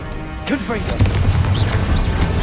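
In the Hogwarts Legacy game, an explosive Confringo spell lets loose a loud blast with a booming impact, then rumbles on beneath whooshing and whistling magic effects, all of it over within a couple of seconds.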